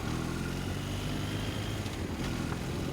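Constant loud engine drone and rushing wind noise from a BMW GS1250 motorcycle while riding, steady throughout without a break.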